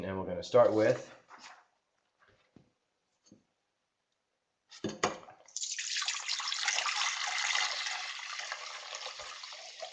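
Seawater pours into a pot in a home kitchen, a steady broadband splashing and trickling that runs for several seconds after a brief spoken line and a quiet pause.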